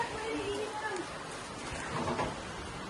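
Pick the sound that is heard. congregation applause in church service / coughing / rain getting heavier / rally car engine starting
rain getting heavier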